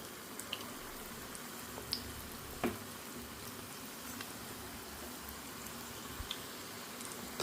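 Sweet poornalu dumplings fry in hot oil, a soft, steady sizzle with occasional faint pops and drips, quiet and without talk.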